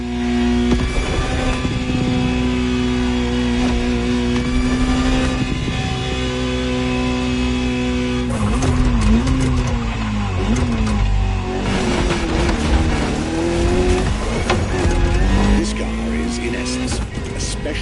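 A Ferrari GTO's engine drones in the racing game The Crew Motorfest, a steady loud tone that shifts pitch as the car changes gear and accelerates, heard beneath continuous talking.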